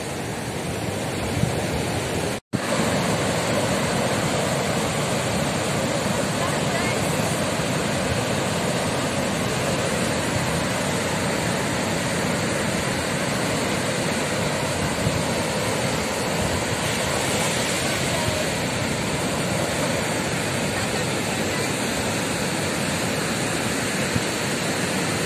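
Steady, loud broadband roar of surf breaking on Rowo Gebang beach, continuous and unbroken except for a brief dropout near the start, with no voices heard.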